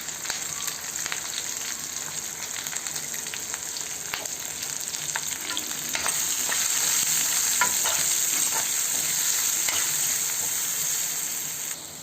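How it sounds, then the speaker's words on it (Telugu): Onions frying in a pan for a carrot, capsicum and tomato masala curry, a steady close sizzle with light stirring scrapes that grows slightly louder midway. "ఒక 5 నిమిషాలు దోరగా వేయించుకోవాలండి."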